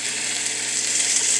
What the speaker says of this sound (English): Listen at that sizzle.